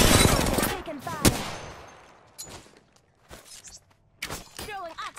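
Bursts of automatic gunfire in the video game Apex Legends, a loud rapid volley at the start followed by scattered shorter bursts and single shots.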